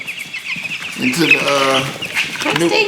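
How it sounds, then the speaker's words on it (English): Two-week-old chickens chirp and cheep nearby, short peeping calls rising through the middle and end, with faint clucking underneath. "We're going to check on the chickens."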